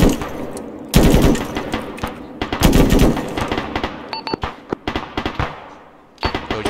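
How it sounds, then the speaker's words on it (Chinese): A rifle fires tracer rounds in ArmA, loud sharp bursts of shots near the start, then scattered single cracks and distant echoing reports, with another burst at the end. "那我现在射击，你帮我看看得到我的异光弹吗？"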